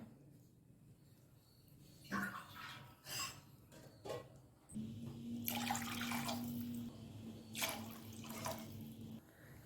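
Water pours steadily into a pot of rice for pulao, several seconds, with a few clinks of utensils before it and a brief pause partway through.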